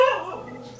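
A dog gives a single short, close bark that fades into a whiny tail, heard alone without talk.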